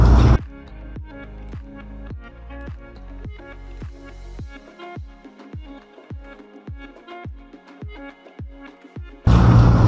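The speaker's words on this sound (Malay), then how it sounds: "Ketapang ni kita basuh dulu" Ketapang sea almonds being washed in water, with repeated sharp wet squishes and knocks coming in a steady rhythm, close and fairly loud, with no talking.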